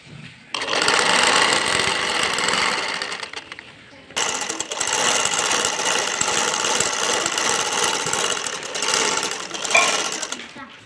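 An electric sewing machine stitches the inner facing of a fairy-style maxi dress in two long, loud, steady runs separated by a brief pause near the middle.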